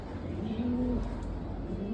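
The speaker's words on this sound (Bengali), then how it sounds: "কবুতরগুলো দেখতে পারবেন কালকে ইনশাল্লাহ" Pigeons coo in a loft, a low soft throaty call rising and falling twice over a steady hum of background noise, no talking.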